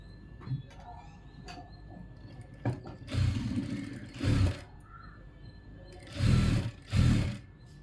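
A sewing machine stitches a blouse band in short bursts of whirring, rattling motor noise, two longer runs separated by pauses, with small clicks from handling the fabric between them.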